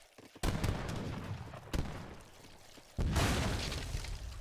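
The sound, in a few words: leather cannons firing in a siege, from the video game Age of Empires III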